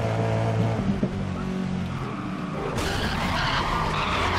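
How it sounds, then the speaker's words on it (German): A hypercar skids in the racing video game GRID on a track day, its tires sliding and squealing over a loud, steady engine roar that stays close throughout, with a brighter, harsher stretch in the final seconds. "Ich bin echt wirklich ein bisschen ins Rutschen gekommen."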